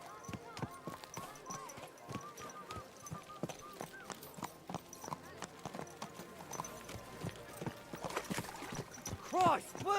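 Horse hooves clip-clop in a steady rhythm on a road in Kingdom Come Deliverance 2, close and distinct, with background game ambience and a brief snort or whinny near the end.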